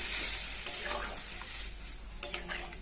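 Boiled water poured into a hot pan of potatoes and chickpeas gives a steady sizzling hiss, punctuated by a few sharp metallic clinks and splashes close by.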